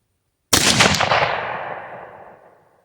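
A single sharp rifle shot from a .270 Winchester loaded with cast bullets, loud and close, with a long echoing tail fading out over about two seconds after a moment of silence.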